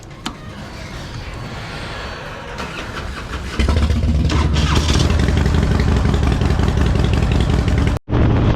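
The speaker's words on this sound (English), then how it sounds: "as we crank up the bikes to head out of here" Harley-Davidson Fatboy motorcycles crank up in the dark early morning, a quiet rumble jumping to a loud, steady, deep engine drone around the midpoint and holding strong, with a brief cut near the end.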